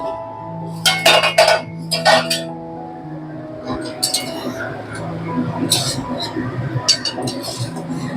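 A metal lid comes off a cooking pot of cauliflower simmering in yogurt, giving a few sharp close clinks and scrapes, with someone talking quietly between the metallic knocks.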